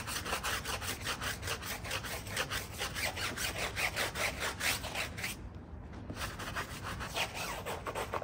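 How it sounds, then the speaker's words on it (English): A tire cleaning brush scrubs a car tyre in quick, regular back-and-forth strokes, close and fairly quiet, with a short pause near the middle before the rhythmic scrubbing resumes. "grab your Podium tire cleaning brush and begin to agitate"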